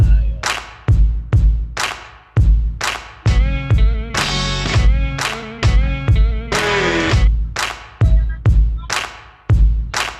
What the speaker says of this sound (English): What's going on with the drums and that clap there too?